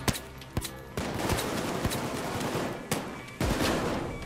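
Rapid gunfire from the video game Payday 2, with sharp loud shots and bursts of automatic fire cracking over a dense, continuous din of in-game action.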